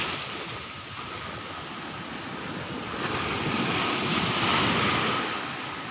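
Sea waves roll onto the eroding shore of Blibis beach at Nareh, Pariaman, a steady broad wash mixed with wind buffeting the microphone, swelling slightly toward the end.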